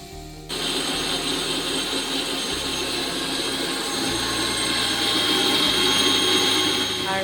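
Spice paste is ground for chowmein: a loud, steady grinding whir starts abruptly after a brief quiet moment and then drones on evenly, with no talking.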